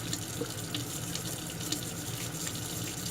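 Tap water runs steadily into a sink to rinse a Remington 1858 revolver during cleaning, a continuous close splashing hiss with no talking.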